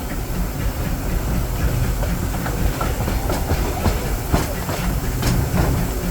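The Disneyland Railroad train rolling along its rails, a steady loud rumble and hiss with faint rhythmic clatter of wheels, continuous and close throughout.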